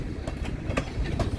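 Freight train cars roll past at close range in a steady, continuous rumble with faint rhythmic clatter from the wheels and no voices.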